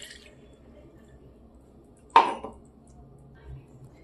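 Milk poured into a white potato gravy with cashews lands in one short splashing burst midway, alone over a quiet kitchen background.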